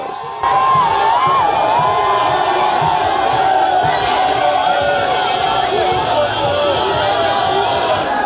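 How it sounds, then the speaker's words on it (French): A large jubilant crowd at a presidential campaign rally tour cheers and shouts loudly and continuously, a dense roar of voices with rising whoops and chants close by, lasting throughout. "une foule en liesse toujours aussi nombreuse"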